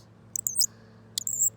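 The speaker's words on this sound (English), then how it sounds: "You can twist it anyway, it squeaks." A handheld twist bird caller, used outdoors, gives two quick pairs of sharp, high chirping squeaks about a second apart over a low steady background hum.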